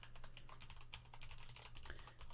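Password being typed on a computer keyboard: a steady run of quick, close key clicks with no talking, over a low constant hum.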